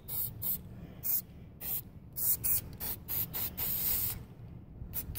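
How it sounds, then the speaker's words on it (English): Aerosol spray paint hissing in repeated bursts onto a tub of water while hydro dipping a Switch Pro controller, loud and close with short pauses between sprays. "Spray it from kind of far back so you don't splash out all the water."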